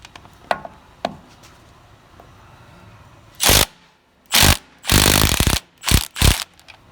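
A Milwaukee 3/8 stubby power ratchet works on drive shaft bolts in a shop, giving several loud, close bursts of rapid buzzing after a few faint clicks.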